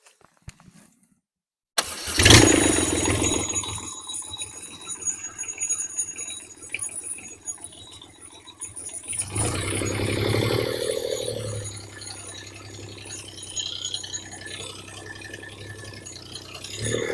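A Reliant Robin fitted with a Kubota D722 diesel engine cranks and catches after a short silence, then settles into a steady, rattly diesel idle that swells and eases as it runs, close by with no voices.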